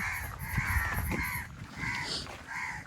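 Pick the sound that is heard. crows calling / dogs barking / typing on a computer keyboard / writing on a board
crows calling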